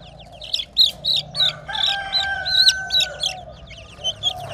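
Nine-spur chicks chirping rapidly in high, repeated peeps, with a few fowl clucks, close and lively, no voices.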